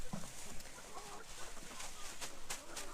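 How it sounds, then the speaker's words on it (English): Backyard chickens cluck softly while scratching through tipped-out pub food scraps in a farm pen, with faint rustling underneath; the clucks are quiet, a little distant and intermittent. "They put each day's food waste in a bag and we just tip it in and the chooks scratch it."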